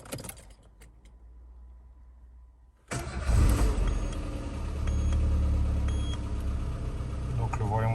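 A car engine cranks and catches after a quiet stretch with a faint hum, then settles into a steady close idle; the start follows a check-engine light fault cleared with a diagnostic tool.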